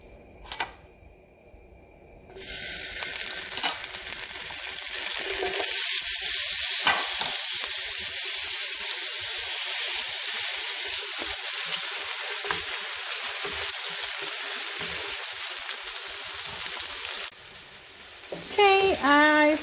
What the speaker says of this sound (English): we're gonna fry them until the onion turns a little bit clear